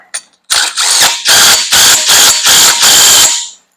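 A ratchet wrench tightening the large main bolt on an Onan Marquis Gold 5500 generator coupler, sharp loud close clicking in about seven rhythmic strokes, each a fast burst of pawl clicks separated by brief pauses.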